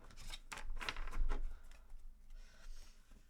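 Tarot cards are shuffled by hand in a few quick, papery riffles and flicks, close and fairly quiet, tapering off into softer rustling.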